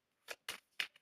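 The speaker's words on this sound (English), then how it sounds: "Let's pull one more card and let's see where we're going with it." Three quick papery swipes of a card being pulled from a deck, close and clear, spaced about a quarter second apart with a softer flick at the end, no talking.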